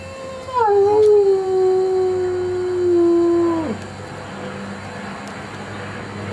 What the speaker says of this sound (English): I've never seen you howl before.